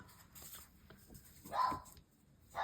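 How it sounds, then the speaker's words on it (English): A pet dog barking at the husband during their usual morning routine at home, a couple of sharp, fairly loud barks standing out over a quiet indoor background with light rustling. "He's just barking at my husband."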